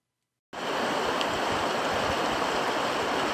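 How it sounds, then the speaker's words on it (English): A river flowing by in hunting country after silence, then a steady broadband rush of water starting abruptly and holding constant and close, with no voices. "I recorded this session of just the river flowing by"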